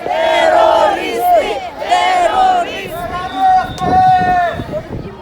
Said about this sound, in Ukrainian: Росія терористи, слава ЗСУ та славнозвісні фрази про Путіна вигукуються в колоні українців.